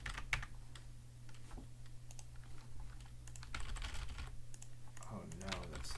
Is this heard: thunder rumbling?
no